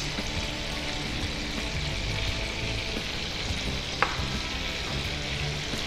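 Butter melting in a hot pan for street-style mushroom rice, giving a steady, even sizzle and crackle that runs throughout, with a single soft tap partway through.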